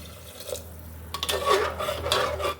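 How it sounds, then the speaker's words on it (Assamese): Fried lentils stirred in a pot just after water is added, giving soft scraping and light clinks of a spoon against the pot over a low, steady background. "আৰু লৰাই দিম।"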